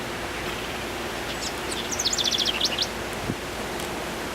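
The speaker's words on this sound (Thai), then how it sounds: "นั่งอยู่ได้ยินเสียงนกร้องตลอดเลย" Small birds in a backyard give a brief run of high, rapid chirps midway through, set against a steady wash of wind noise.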